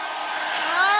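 A hair blow dryer runs close by, giving a loud whooshing hiss with a whine that rises in pitch over about a second.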